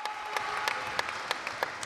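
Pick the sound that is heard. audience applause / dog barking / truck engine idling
audience applause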